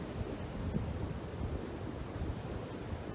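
Ocean waves wash steadily against the shore beside an outdoor yoga session, a soft, continuous surf rush blended with light wind, fairly faint and with no voices.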